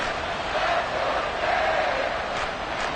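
Stadium crowd at a Texans at Dolphins NFL football game, a steady loud roar of many voices rising slightly in waves, filling the space without pause.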